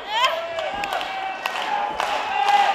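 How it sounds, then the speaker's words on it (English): Crowd clapping and cheering at a women's tag team wrestling match, a continuous roar of applause from a large audience with voices mixed in and a few sharper slaps standing out. "They love clapping."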